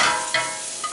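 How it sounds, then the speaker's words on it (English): Mushrooms sauté in a hot restaurant pan, giving a continuous bright sizzle with a brief stir or scrape partway through. "In the meantime, we're sauteing"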